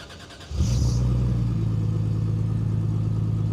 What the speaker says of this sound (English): It legit just sounds like a normal little six banger.